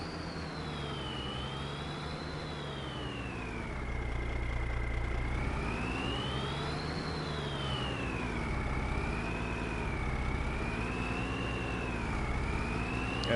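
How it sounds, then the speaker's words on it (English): A newer tractor with a turbo and a Jake brake, from the Farming Simulator 22 game, drones loudly and steadily throughout, its engine pitch rising and falling in slow swells with no talking. "Absolutely love the sound of this tractor"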